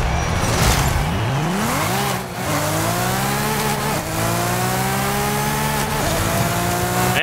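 Nissan Skyline wagon in Forza Horizon 5 revving hard, its engine note climbing and falling through gear changes with tire noise underneath, loud and continuous throughout.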